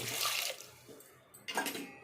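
Water splashes as one litre is poured into a container for carrot-beetroot juice, a short bright stream that pauses and then resumes, close and fairly quiet.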